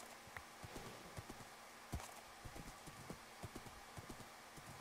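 A horse ridden in Minecraft clip-clops with soft, steady hoof taps, repeating at a brisk, even trot under a faint background hum, with no talk.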